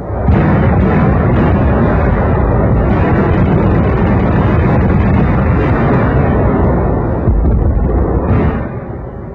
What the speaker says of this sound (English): Anti-aircraft guns were fired point blank as anti-tank guns until they were overrun.